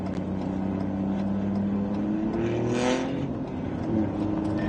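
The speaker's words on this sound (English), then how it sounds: "There's a guy with a diesel over here that's got to show everybody he's got a diesel." A diesel truck revs its engine somewhere in town, a loud continuous roar that climbs and swells near the middle, then settles back, with no talking over it.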